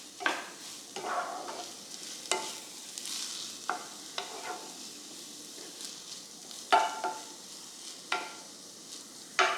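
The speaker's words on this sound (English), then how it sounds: "what we're gonna do is fry the quinoa with our veggies" Quinoa fries with vegetables in a pan, a soft sizzle broken by repeated scraping stir strokes at irregular intervals, fairly close and moderately quiet, with no talking.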